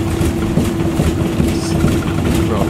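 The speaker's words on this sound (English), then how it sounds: "It won't really tick over as well, so it's starting to clonk." An MG Midget engine runs close up at a rough idle, misfiring and clonking. A loud, continuous low rumble carries a steady hum and uneven knocks.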